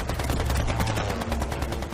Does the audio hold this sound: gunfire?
yes